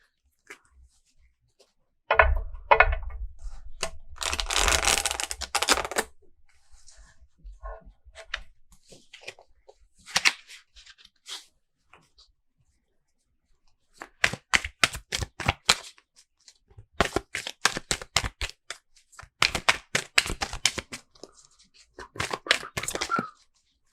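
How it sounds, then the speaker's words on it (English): Tarot cards are shuffled in several bursts of rapid riffling and fluttering, separated by quiet pauses, close and crisp. "Give these a good shuffle."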